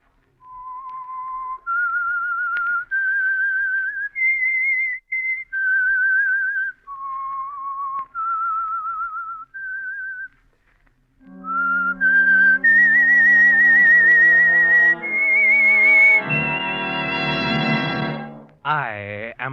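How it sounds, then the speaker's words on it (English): The whistled theme of The Whistler radio mystery program, a lone melodic whistle moving through a series of held notes, then joined by an orchestral swell that rises to a loud close. "That whistle is your signal for the Signal Oil program"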